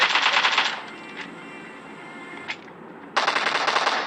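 Automatic rifle fire in the PUBG battle royale game: two bursts of rapid shots, one at the start and one near the end, with a quieter ringing gap between them, loud and close, no talking.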